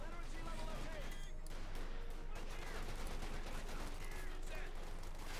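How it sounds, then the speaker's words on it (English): Fifty-caliber machine gun fire in Company of Heroes 2 rattles in dense, sustained bursts amid battlefield noise, with a commentator talking over the gunfire. "Gunners are being overwhelmed by 50 caliber fire and the lieutenant"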